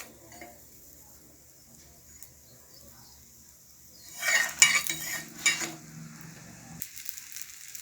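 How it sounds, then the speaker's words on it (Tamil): Egg chapati frying in oil on a pan, with soft sizzling and a few clinks of a utensil against the pan in the middle, fairly quiet and close, with no talking. "திருப்பி போட்டு சப்பாத்தி வேக நம்ம எண்ணெய் விட்டுடலாம்."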